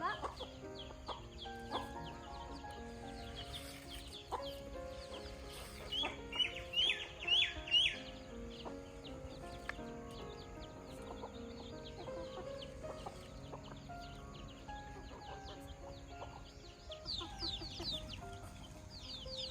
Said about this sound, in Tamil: ஸோ இந்த கோழிகளோட சவுண்டு, கிளி கத்துறது